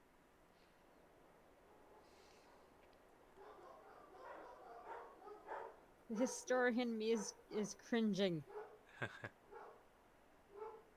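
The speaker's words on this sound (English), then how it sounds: "Jesus Christ, dogs, shut up." Several dogs bark in quick overlapping bursts close by in a home, with some yips mixed in, while people talk over and between the barking.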